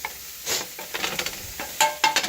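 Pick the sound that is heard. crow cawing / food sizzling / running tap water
food sizzling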